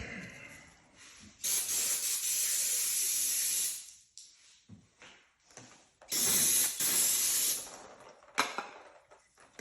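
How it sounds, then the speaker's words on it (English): Aerosol cleaner sprayed through a small ATV carburetor body in two long hissing bursts of a couple of seconds each, separated by short spurts and clicks, close and loud without talk. "as you spray in those should be coming out the body of the carb"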